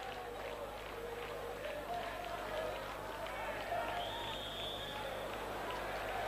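A football crowd in a stadium in Athens during a Chelsea FC match against Real Madrid, a steady dense roar that stays loud and continuous under commentary.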